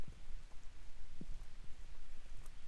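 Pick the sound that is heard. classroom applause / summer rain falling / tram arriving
summer rain falling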